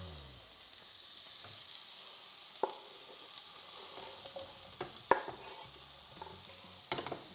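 Potatoes sizzle quietly in a frying pan, a soft steady hiss broken by a few sharp clicks and scrapes of stirring.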